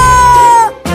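A cat gives a loud, drawn-out meow close by, followed by a short pause and then a brief, lower sound.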